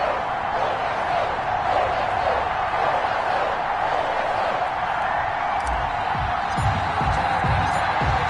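A large football stadium crowd before a Carolina Panthers versus New England Patriots game keeps up a loud, steady roar, with a few brief thumps and cheers rising near the end.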